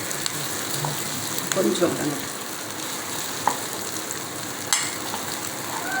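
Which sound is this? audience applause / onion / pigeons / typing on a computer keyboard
onion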